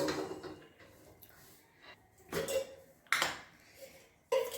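A wok is set on a gas stove with a few scattered metallic clanks and scrapes of cookware, sharp isolated knocks separated by quiet gaps, fairly soft overall.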